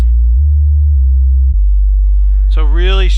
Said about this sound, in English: This is a library based on nothing but sine waves.